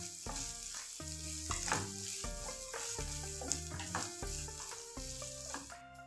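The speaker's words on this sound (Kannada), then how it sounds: "ಈಗ ಈರುಳ್ಳಿದ ಹಸಿ ವಾಸನೆ ಹೋಗೋ ತನಕ ಫ್ರೈ ಮಾಡ್ಕೊಳ್ಳೋಣ" Chopped onion and grated ginger fry in a pan with a steady soft sizzle and occasional stirring scrapes, largely covered by louder tonal music playing throughout.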